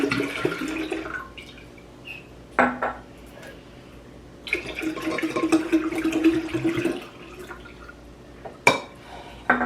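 Lemonade from two bottles is poured into a mix for sangria, with splashing liquid in a couple of longer streams and sharp clinks of glass and bottle between pours.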